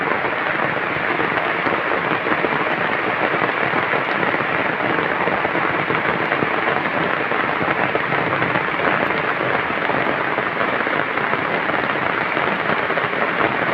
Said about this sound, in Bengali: কি পরিমাণ বৃষ্টি হচ্ছে